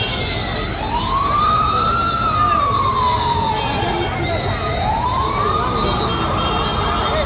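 A fire engine siren wailing as it arrives at a hotel fire, loud and near, rising and falling in slow sweeps over a steady rumble of crowd and traffic, with voices faintly underneath.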